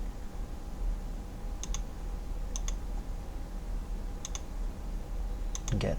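Mouse clicks while dimensioning parts in SolidWorks drawing software, arriving as sharp paired double-clicks spaced a second or more apart, fairly close, over a steady low hum with no talking.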